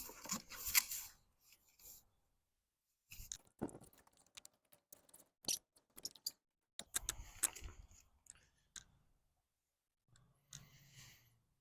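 Rough cutting of material for car dive planes, with short scraping and snipping bursts separated by pauses, fairly faint and close.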